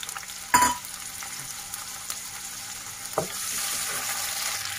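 Tomatoes fry in hot oil in a kadai. The clip opens with a sharp clatter, then a faint, steady sizzle continues, with another light knock partway through and the frying swelling slightly toward the end.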